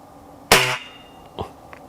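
A single sharp crack from a Swiss Arms Tac 1 4.5mm, 20-joule air rifle firing a pellet, loud and close with a brief decay and a couple of faint clicks afterward.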